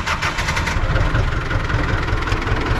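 A tractor engine with a worn clutch runs loud and steady nearby, a continuous low, chugging drone with no pauses and no voices over it.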